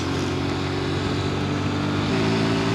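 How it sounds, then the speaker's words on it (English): A Honda C90 motorcycle engine runs steadily at road speed with a loud, even droning hum and a slight pitch shift partway through, heard alone without talking. "The Honda C90 is going well."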